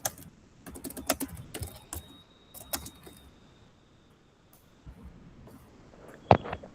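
Close computer keyboard typing comes in quick clattering bursts of keystrokes, pauses in near silence, then resumes with a few sharp louder clicks near the end.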